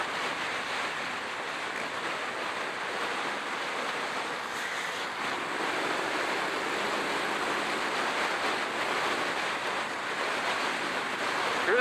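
A 2018 Triumph Street Scrambler motorcycle at freeway speed, heard as a steady, roaring rush of wind noise over a low engine drone, constant and fairly loud with no talk.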